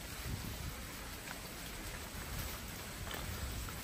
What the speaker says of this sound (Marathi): आज रात्रभर खूप पाऊस पडतो.